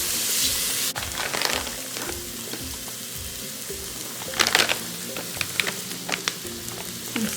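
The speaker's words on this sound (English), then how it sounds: "I'm gonna give this a good stir." Onions cooking down until translucent in a pan are stirred, a continuous sizzle broken by scraping and clattering of the spoon against the pan.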